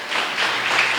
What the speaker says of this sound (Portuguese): Oh, aplauso triste